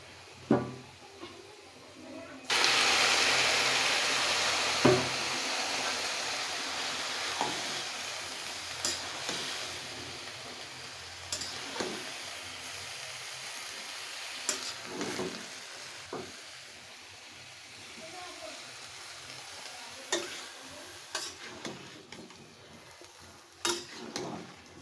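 Bottle gourd greens stir-fried in an onion and garlic tempering, a steady loud sizzle that surges as the greens hit the pan, with scattered clinks and scrapes of a spatula stirring throughout.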